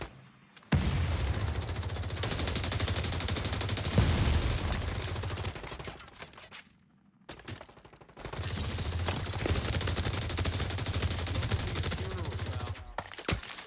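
Dense bursts of automatic gunfire from The Division Resurgence mobile game rattle on loudly and almost continuously, with a short pause midway before the shooting resumes.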